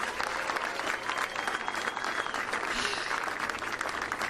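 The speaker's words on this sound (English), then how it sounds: "Please give those chairmen a round of applause." A crowd at a GOP primary victory speech gives a round of applause for the county chairmen, continuous, energetic clapping that fills the room at an even, moderately loud level throughout.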